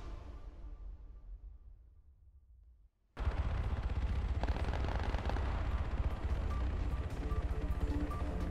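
An explosion from an IED dropped by a drone, set in the video game Arma 3 on Altis, hits abruptly after a fading rumble and leaves a loud, dense, sustained blast roar.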